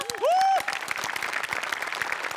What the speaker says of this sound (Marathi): स्पेशली सचिन गोस्वामी सरांसाठी जोरदार टाळ्या